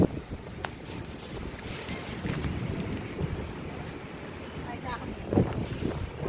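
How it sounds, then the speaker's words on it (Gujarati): Strong wind blows outdoors at a hilltop spot overlooking a temple, a steady rushing roar with buffeting gusts on the microphone, briefly louder near the end, while voices talk faintly underneath. "બહુ મસ્ત પવન આવે છે અહીંયા"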